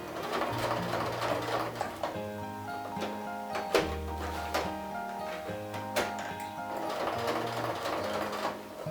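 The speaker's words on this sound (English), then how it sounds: "you're going to sew right around the edges of the Velcro" A sewing machine stitches around the edges of a Velcro strip on a fabric baby drool bib, turning at corners; a steady, close whirring hum with a few sharp clicks, continuous throughout with no talk.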